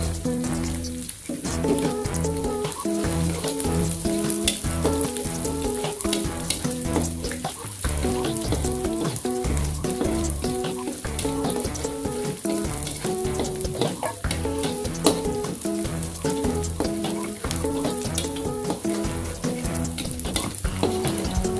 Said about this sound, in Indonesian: Kita goreng terus petainya.